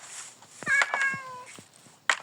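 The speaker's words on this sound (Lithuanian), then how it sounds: "Girdit miau." A cat meows in a Minecraft video game, giving a few clear, close meows with rising and falling pitch. The calls come one after another over quiet background, followed by a brief sharp sound at the end.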